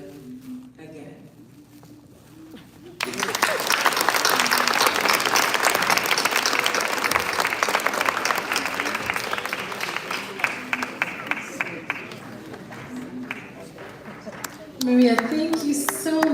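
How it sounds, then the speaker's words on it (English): Loud audience applause bursts in after a storytelling performance, a dense sustained clapping that runs on for over ten seconds, with a brief quieter lead-in and a host's voice speaking near the end. "Please give Maria another big round of applause"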